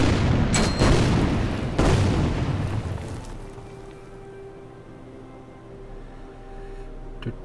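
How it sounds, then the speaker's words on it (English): Artillery shelling in Order of Battle: Winter War on the Karelian Isthmus: two sharp, heavy booms a second apart, each leaving a rolling rumble that slowly fades into a quieter low drone. "Keep shelling these guys."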